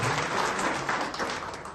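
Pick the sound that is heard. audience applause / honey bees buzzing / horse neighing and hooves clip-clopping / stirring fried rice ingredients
audience applause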